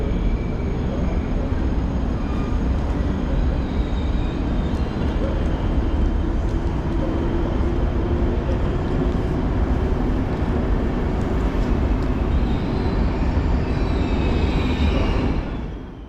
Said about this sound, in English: nice shot of the train coming in